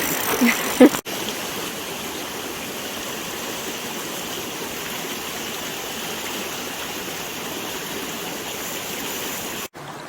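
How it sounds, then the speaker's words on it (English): River rapids on a brook trout stream rush in a constant broad roar that stays steady and close for the whole stretch, with a brief knock at the start. "there's like rapids in different sections of the river"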